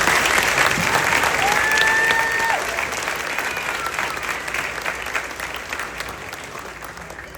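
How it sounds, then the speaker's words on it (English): Sustained applause from an audience at a middle school eighth grade graduation ceremony, dense clapping filling the room and gradually thinning and softening toward the end. "Let's give these students a round of applause."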